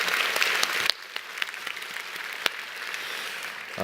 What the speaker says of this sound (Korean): 우리 한번 먼저 박수로 큰 영광을 올려드리겠습니다